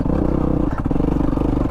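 A Yamaha WR250R dirt bike in second gear on tight single-track, its engine loud and close with a lugging, uneven throb that sputters briefly mid-way amid clattering and scraping as it bogs toward a stall.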